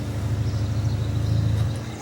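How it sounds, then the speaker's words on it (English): A loud, rumbling car engine idles nearby with a steady low drone. "my son drove in with a really noisy car."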